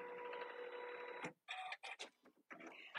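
Embroidery machine starting a cutwork coaster, a steady close whirr that cuts off, then returns in short stop-start bursts of motor and stitching.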